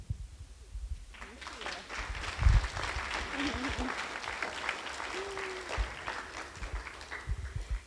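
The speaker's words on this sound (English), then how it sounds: "When I heard you clapping like that" An audience at an elementary school STEM award event breaks into sustained clapping after a brief quiet start, with voices mixed into the applause.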